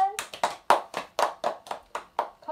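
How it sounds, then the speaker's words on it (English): Hand clapping from a single person close by, about a dozen crisp, evenly spaced claps in a steady rhythm. "Can we just have a moment of applause"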